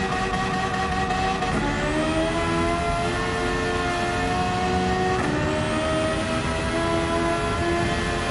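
Engine-swapped Suzuki Swift Sport racing in Gran Turismo 7, its high-pitched engine screaming loud and steady as revs climb and dip through gear changes, with no talk.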